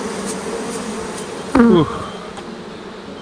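Honey bees buzz around a hive frame during a honey harvest, a constant close insect hum with a brief louder burst partway through as a voice exclaims briefly.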